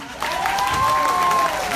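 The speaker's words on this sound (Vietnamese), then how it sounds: "Thanh Thảo xin quý vị dành một tràng pháo tay thật lớn cho ban nhạc ạ" Audience applause for the band at a live concert show, a short burst of clapping under a sustained ringing tone, moderately loud and lasting under two seconds.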